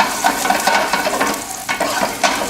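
Smashed, skinned ginger pieces sizzle in hot oil as a chicken stir-fry begins, a close, steady frying hiss with a few brief crackling bursts.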